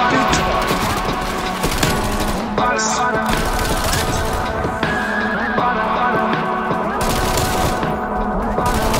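Sustained video game gunfire, dense overlapping bursts of automatic shots that run nearly continuously at a steady loud level, with a voice talking over the shooting.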